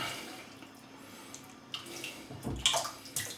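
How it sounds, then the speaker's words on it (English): Hot water pours and splashes briefly into a shaving bowl after a quiet stretch, with a few short sloshes near the end. "Get some hot water"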